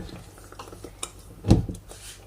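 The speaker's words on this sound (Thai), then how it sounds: "เดี๋ยวเราจะ ใส่ผักกาดลงไป" Cabbage drops into a cooking pot with a single soft clattering thud, followed by a few light scrapes of a utensil against the pot; close and fairly quiet, with no talking.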